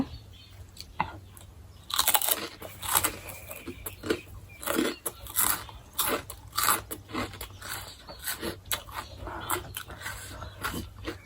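Pork cracklings crunch between the teeth in close, irregular crisp bites and chewing, with the spicy papaya salad and rice noodles meal eaten outdoors by the fields.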